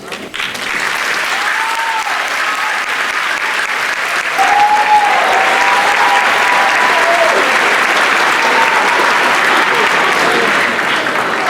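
Audience applause at a high school commencement ceremony, honoring Seal of Biliteracy students: dense, sustained clapping from a large crowd, steady throughout and swelling slightly midway, with faint vocal tones drifting over it.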